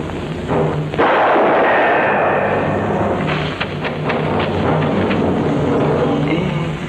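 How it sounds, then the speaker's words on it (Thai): Gunfire in a 1971 Thai movie booms out as a sharp crack followed by a heavy, rumbling roar that lingers loudly and densely throughout, with no talk over it. "เสียงปืนมันดังผิดกว่าเมื่อกี้หรือจะกล้องภูเขา"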